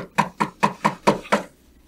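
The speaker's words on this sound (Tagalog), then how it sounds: "may kumakatok. Buksan mo nga yung pinto, anak." Six evenly spaced knocks on a wooden door, firm and fairly close, with a steady rhythm and no voices.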